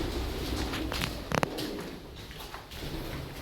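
Low, continuous cooing from pigeons fills a veranda of an old structure at Machari, Rajgarh in Alwar, with a short knocking clatter partway through and no voices over it.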